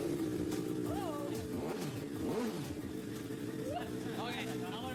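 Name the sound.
custom sport bike engine started and running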